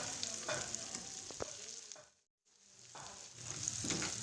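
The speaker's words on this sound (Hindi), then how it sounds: "तकरीबन 3 मिनट तक मज़ीद इसे भूनना है इसी तरह" Chicken keema fries and sizzles in a pan, with scraping stirs rising and falling. The sound cuts out briefly in the middle, then the frying returns at the same close, moderate level.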